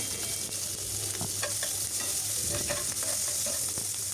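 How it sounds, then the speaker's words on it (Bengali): Chopped onion and green chillies sizzle steadily in hot oil while a spatula stirs them, a close, continuous frying hiss with scraping strokes; no one speaks. "পেঁয়াজ কাঁচামরিচ দিয়ে ভালোভাবে নাড়াচাড়া করে একটু ভেজে নিচ্ছি"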